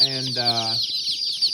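Vario-ova chickens clucking and chattering nearby in a farm setting, a continuous busy flock sound, while someone talks over the first half.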